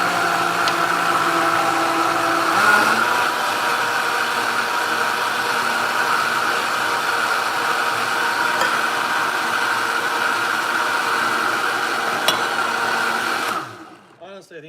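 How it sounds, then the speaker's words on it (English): A Vitamix blender fitted with a vacuum blending kit runs at a steady, loud whir with a constant high motor hum, briefly shifting pitch early on, then cutting off abruptly near the end. "Notice how the blender doesn't bounce around."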